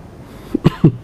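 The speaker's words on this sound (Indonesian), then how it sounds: "Dari dulu saya batuk begini ya." A man's long-standing chronic cough: two or three short, harsh bursts in quick succession, close and fairly loud, with no talk over them.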